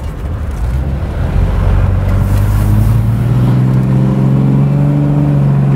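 A 2017 Jeep Wrangler Unlimited Sport 4x4 on oversized tires drives along, its engine droning and rising in pitch as it speeds up, with steady road and tire roar close by and no talking.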